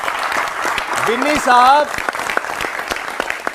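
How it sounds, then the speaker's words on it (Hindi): A gathered crowd claps loudly to welcome a political guest, sustained applause with scattered sharp claps while a voice speaks over it partway through. "जोरदार तालियों से इनका स्वागत हो"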